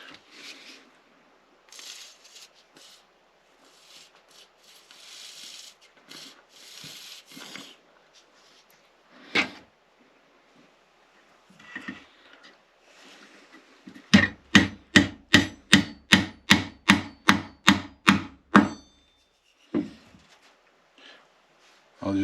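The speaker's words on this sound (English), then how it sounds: "I'll just continue driving the dowels." Wooden dowels driven into 1.25-inch-deep holes, about a dozen sharp evenly spaced knocks in a quick run after quieter handling sounds and some faint talk earlier.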